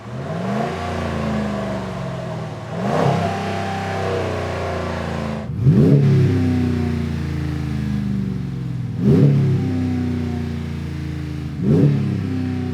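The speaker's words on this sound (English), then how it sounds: "what we went with in the exhaust department is going to be the Borla Stinger S-Type dual exhaust system" A 2009-2018 RAM 1500 pickup engine revs repeatedly through a Borla Stinger S-Type dual rear-exit exhaust, four or five rising bursts that climb and fall back to a deep idle, loud and close.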